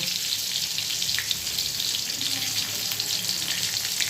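Pointed gourd (potol) pieces fry in hot oil in a kadai, giving a steady, dense sizzle that stays close and even throughout with no talking.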